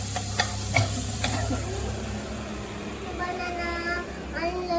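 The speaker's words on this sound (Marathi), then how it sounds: "हे हिरवा वाटण आपल्याला मस्त असं परतून घ्यायचं आहे." Green spice paste with cumin sautéing in a pan gives a steady sizzle, with a few spoon scrapes early on and faint background voices and household noise.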